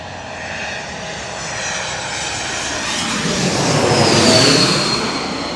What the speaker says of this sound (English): An Airbus A3220 from ORD coming on in.